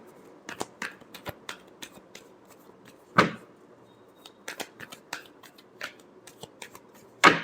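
Tarot cards are shuffled by hand up close in a quiet room, a string of crisp riffling flicks and slaps in uneven bursts, with a couple of louder snaps.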